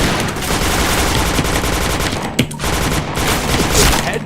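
Rapid automatic gunfire rattles in Point Blank, a video game, in dense bursts at close range, with a brief sharp pause and a single louder shot partway through, and no voices.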